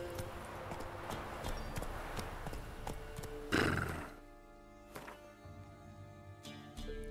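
Roach, the horse in The Witcher 3: Wild Hunt, moves at a steady rhythmic clip-clop of hooves with a short burst of whinnying partway through, all fairly close and without any voices.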